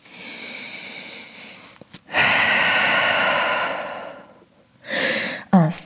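Slow, deep breaths close to the mic while holding a downward dog yoga pose: a long, steady exhale, then a shorter breath in and a quick sniff at the end.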